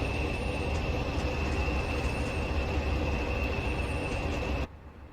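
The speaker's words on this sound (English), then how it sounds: "now that is a proper hefty freight train there." A Class 56 freight locomotive hauling a heavy freight train rumbles past in Train Simulator Classic, a loud, steady broadband roar with a sustained high tone, cutting off abruptly near the end.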